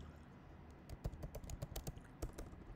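Quiet, close keystrokes on a computer keyboard as text is entered into an email form, a steady run of distinct taps that grows busier midway, with no talking.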